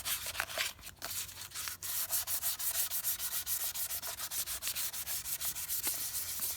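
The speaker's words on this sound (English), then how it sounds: "I'm sanding the base" Hand sanding the base of a maple wood sculpture on a work table, a quick rhythmic rasp of back-and-forth strokes, close and fairly soft, settling into an even steady rubbing pace.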